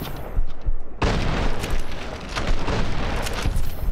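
Grenade blasts and combat noise in Fallout: New Vegas, a sudden loud burst followed by continuous rumbling, crackling explosions and gunfire, dense and close throughout.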